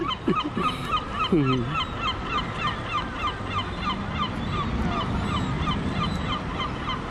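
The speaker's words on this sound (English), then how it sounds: "Look at all the birds." Geese honk several times close by near a waterfront plaza in Oslo, then fainter bird calls continue over a steady outdoor murmur.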